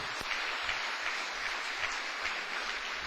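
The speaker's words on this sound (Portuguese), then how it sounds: "Quantos podem dar uma salva de palmas para o Senhor Jesus?" A church congregation claps together in a steady, continuous round of applause during a sermon, with a full, even texture of many hands and no speech over it.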